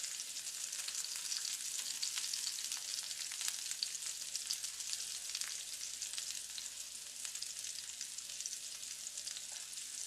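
Potatoes sizzle and crackle steadily as they fry in grease in a pan, a continuous close hiss with no voices.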